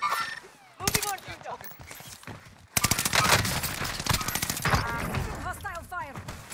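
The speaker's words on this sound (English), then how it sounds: "Hostile fire." Gunfire rings out in Call of Duty Warzone: loud bursts of rapid automatic shots and a sustained barrage after a short pause, mixed with game voices and other chatter.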